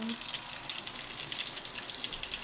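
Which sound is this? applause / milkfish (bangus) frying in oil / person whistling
milkfish (bangus) frying in oil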